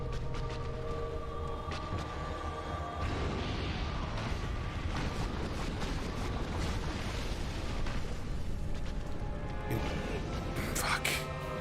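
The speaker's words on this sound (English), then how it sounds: "No, you're gonna spew lava at me" A boss in Dark Souls Remastered spews lava, a dense rumbling eruption roar that builds and churns continuously, loud and close, with a sharper burst near the end.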